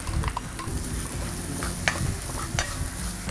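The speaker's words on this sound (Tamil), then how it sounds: "இந்த மாதிரி இஞ்சி பூண்டு லேசாக செவக்க ஆரம்பிக்கிற டயத்தில் வெட்டி வச்சுருந்த வெங்காயத்தை சேர்த்துக்கலாம்" Chopped onion goes into a pan where ginger and garlic are just starting to brown for a tomato kurma, giving a steady close sizzle with light stirring scrapes and clinks throughout, and no voices.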